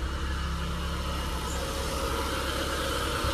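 Steady, even drone of a Nissan Sentra B14 engine idling while it warms up, continuous and close with no voices.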